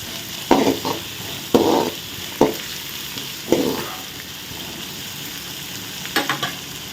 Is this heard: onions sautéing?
yes